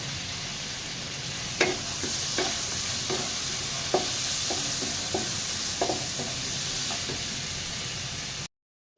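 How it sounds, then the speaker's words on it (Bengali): Potatoes fry in hot oil with a steady, loud, dense sizzle throughout, broken by a scattering of soft stirring knocks, and then it cuts off abruptly. "এখন আমি আলুগুলো ছেড়ে দিই এই তেলের মধ্যে। আলুগুলো ভেজে নিচ্ছি"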